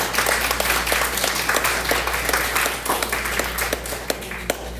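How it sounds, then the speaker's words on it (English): Group applause for a participant at a kindness workshop with seniors, a continuous moderate patter of many hands over a low steady hum, with a few louder individual claps standing out near the end. "Can we give her a round of applause?"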